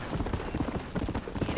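Horse hooves clip-clop in a quick galloping rhythm in the Red Dead Redemption video game, with a faint neigh and a voice calling out briefly over the steady hoofbeats.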